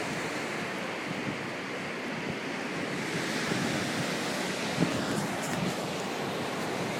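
Ocean waves wash continuously onto a beach, a broad steady roar of surf with some wind noise on the microphone, moderately loud and without speech.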